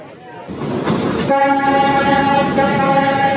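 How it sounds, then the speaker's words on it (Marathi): A train horn sounds loud and close on Hanoi Train Street, a narrow track lined with restaurants, rising over rumbling rail noise as the train arrives and holding as a sustained blast. "हा ट्रॅक आहे, ॲक्च्युअल ट्रॅक आहे जिथं ट्रेन येते आणि ट्रेन आल्यावर लोक पळतात बाजूला."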